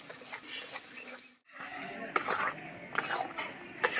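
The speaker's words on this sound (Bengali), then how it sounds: "এবারে সব কিছু ভালো করে মিশিয়ে নেব।" Caramel and raw mango pulp stirred together in a bowl, with repeated scraping and clinking of a spoon against the bowl and a brief pause partway through.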